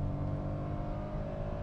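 2022 Citroen C3 hatchback engine worked hard under acceleration, a loud, continuous droning whir that holds steady throughout.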